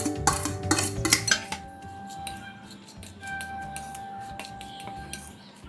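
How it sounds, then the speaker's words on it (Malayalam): Mashed potato filling for aloo paratha being mixed in a bowl, with a run of clinking, scraping strokes of a utensil against the dish, busier at first and then sparser, close and fairly quiet with no talking. "എല്ലാം കൂട്ടിയിട്ടൊന്ന് നന്നായിട്ടൊന്ന് മിക്സ് ചെയ്ത് കൊടുക്കാം"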